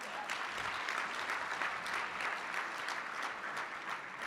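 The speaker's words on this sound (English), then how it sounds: "Give yourself a round of applause for showing up." Conference audience applauding steadily, a dense even patter of many hands held at a constant moderate level throughout, with no voices over it.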